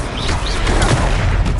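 A Confringo blasting spell goes off in Hogwarts Legacy during a duel, a short, loud burst and boom among other combat noise, with no talk over it.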